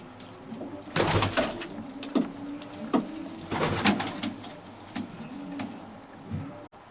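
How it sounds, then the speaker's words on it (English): Show pigeons cooing inside a hen section of a loft, several soft, low repeated coos in irregular bursts, close and moderately loud, with occasional rustling and flutters between calls and no talking. "This is the scene inside Mike's hen section. And I must say, they look magnificent,"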